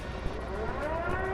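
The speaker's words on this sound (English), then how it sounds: "That siren means somewhere on the map an enemy guided missile is coming down." A steady wailing warning siren in the video game Delta Force signals an incoming enemy guided missile, a continuous rising tone heard alone and fairly faint.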